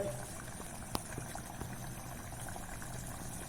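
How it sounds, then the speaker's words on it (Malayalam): Curry simmers and reduces in a pan over a low flame, bubbling faintly and steadily, with one brief tap near the start. "ചെറിയൊരു ഫ്ലെയിമിൽ ഇതങ്ങനെ വറ്റി വരട്ടെ"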